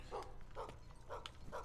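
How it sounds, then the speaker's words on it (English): A dog barks in the video game Gestalt: Steam and Cinder, giving four short, evenly spaced woofs close by over a low game hum, with no talking. "Dog!"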